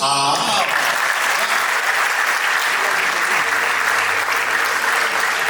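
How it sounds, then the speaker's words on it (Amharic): Guests at an Ethiopian wedding break into loud, sustained clapping, a dense wash of many hands that carries on steadily from start to finish. "አጨብጭቡላቸው።"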